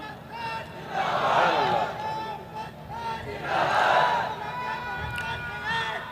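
A large crowd at a religious speech gathering shouts slogans in unison, with two loud swelling waves of chanting rising over background murmur and babble.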